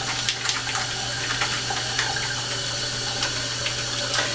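Tap water runs steadily over a bar of soap during a lather test, a continuous close splashing hiss with small irregular drips and spatters, no voices.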